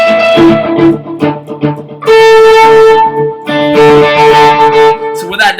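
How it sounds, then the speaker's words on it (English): Electric guitar strummed through two delays, making a galloping rhythmic echo with a wide stereo feel; bright repeated chords pulse in quick bursts and ring on loudly. "What that does is it creates the galloping effect."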